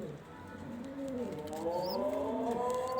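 A pigeon coos close by, giving a soft rolling, warbling call that rises and falls over a faint steady background hum.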